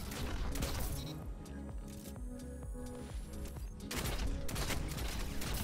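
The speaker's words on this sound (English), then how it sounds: "Explosive rounds is the hand cannon meta." A hand cannon firing explosive rounds in Destiny 2, a rapid volley of sharp, loud shots with blasts, a brief lull in the middle, then another heavy burst of fire.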